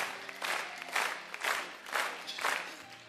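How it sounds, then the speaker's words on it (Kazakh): Wedding guests clap their hands together in a crowd, rhythmic swells of applause pulsing about twice a second, moderately loud and without talk. "Ал меймандар болса, бір қол шапалақларды қағып,"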